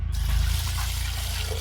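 Water is poured over raw country duck meat to rinse it before cooking, a continuous close, loud splashing gush with a low rumble and no talking.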